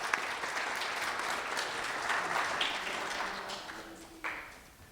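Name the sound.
audience applause for speech contestants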